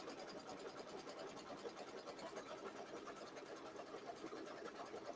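A single-needle embroidery machine stitches a tack-down line around a mini-quilt block twice, giving a rapid, even mechanical chatter that holds steady throughout, quiet and close with no pauses.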